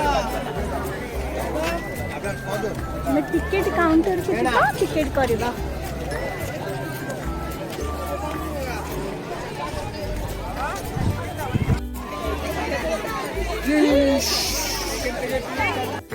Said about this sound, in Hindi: मंदिर पूरा देखा बहुत भीड़ अच्छी बहुत भीड़